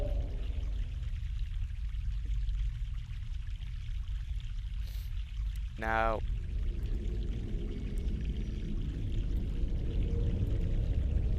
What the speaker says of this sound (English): Well, there's the water. Fresh mountain water.